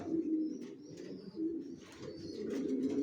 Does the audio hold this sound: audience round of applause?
no